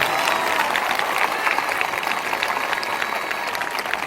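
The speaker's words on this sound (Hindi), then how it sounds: "जो मुस्कुराकर धन्यवाद कर रहे हैं तालियों के साथ" A crowd at a morning prayer meeting claps in a dense, steady burst of applause at a constant, moderately loud level throughout.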